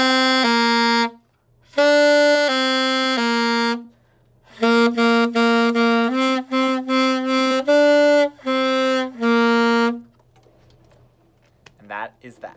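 Saxophone playing the simple tune Hot Cross Buns, clear sustained notes in short phrases of three, then a run of quick repeated notes, close and loud, ending in silence with faint handling noise.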